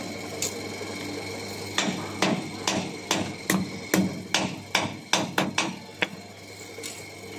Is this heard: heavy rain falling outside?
no